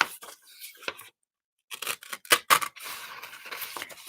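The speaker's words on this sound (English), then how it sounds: "the pleasure of tearing this" Origami paper is torn by hand in several short, crisp rips and rustles, close up, with a silent gap before a denser burst of tearing and crinkling.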